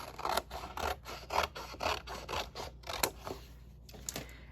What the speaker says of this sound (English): I'm going to cut right up that line.